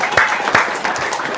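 Audience applause at a live talk or seminar, a steady wash of clapping from a crowd throughout a brief moment.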